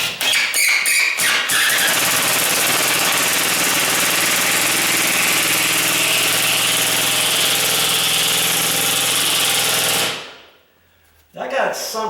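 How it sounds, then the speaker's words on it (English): Impact drill driving a screw into a door frame, a loud continuous rattling hammer-buzz lasting about ten seconds before stopping abruptly, with a few short bursts at the start and a brief sound after the stop. "You got to get one of these impact drills if you don't have one yet"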